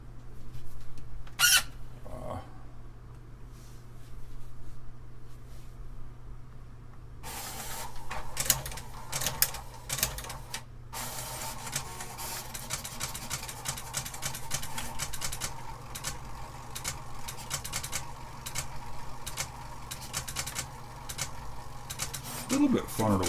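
An HP ColorPro pen plotter runs nearby with its case open, giving quiet rapid clicks and mechanical chatter over a steady hum, mostly in busy bursts after a quieter start. Brief talk may sit underneath.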